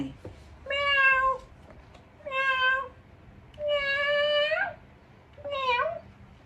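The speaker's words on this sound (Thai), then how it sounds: "แคทร้องยังไง" A cat meows four times, each a drawn-out, clear call separated by short pauses, close and moderately loud over a quiet background.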